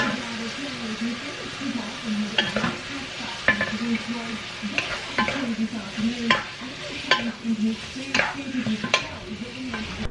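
Chicken afritada cooks in a pan at home, giving a low steady sizzle with a spoon stirring and clinking against the pan now and then, while a voice talks over it.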